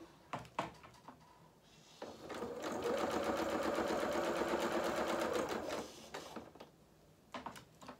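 A domestic sewing machine runs a short reverse stitch along the bottom of a culottes seam, a steady fast whirring burst lasting about three seconds, close and fairly loud, framed by clicks and handling noises before and after.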